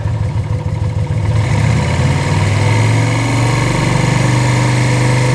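Yamaha VL250 bobber motorcycle engine idling roughly and struggling, a steady close, loud low rumble with uneven pulsing that settles into a firmer even idle.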